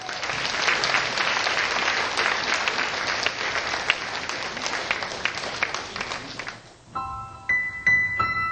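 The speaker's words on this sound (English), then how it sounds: "Please welcome with a grand applause." An audience gives sustained, dense applause to welcome a piano performance of music adapted from a poem. The clapping fades after about seven seconds, and a few bright piano notes follow.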